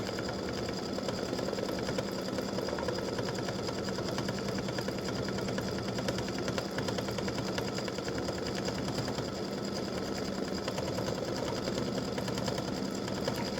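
An embroidery machine stitches a butterfly design in a steady, fast mechanical chatter that runs without a break at a moderate, even level.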